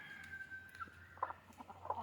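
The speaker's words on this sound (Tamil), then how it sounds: "கோழி" Free-range country chickens clucking in short bursts at midday feeding, with faint rooster-like calls and soft pecking sounds in a quiet yard.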